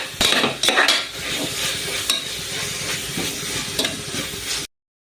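A utensil scrapes and stirs onions with turmeric and garam masala in a hot pan, with a steady sizzle underneath and a few louder clacks against the pan early on, close and continuous with no talking.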